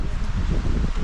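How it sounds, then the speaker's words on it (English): Strong, gusty wind on an exposed hilltop during Storm Darragh, roaring and buffeting the microphone in a steady, close rush with no one speaking. "the winds are fairly coming in"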